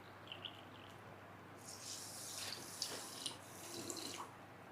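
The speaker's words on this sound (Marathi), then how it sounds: "यामध्ये आपल्याला 5 कप पाणी ओतायचं आहे." Water is poured into a kettle holding two cups of sugar for syrup, making a faint, quiet trickle and splash that grows fuller partway through.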